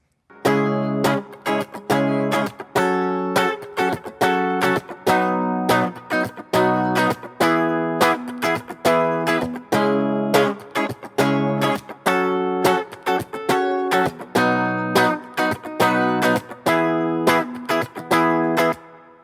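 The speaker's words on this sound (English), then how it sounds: "Now the verse uses the same chords, it just uses a different strumming pattern" An electric guitar strums chords in a steady, repeating rhythmic pattern, each chord held across several strokes, close and clear with no talking.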